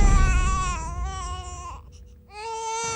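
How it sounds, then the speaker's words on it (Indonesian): An infant cries in a horror drama scene, a loud sustained wailing cry that breaks off briefly, then resumes with a quieter whimper. "Mas, kamu dengar suara tangisan bayi nggak?"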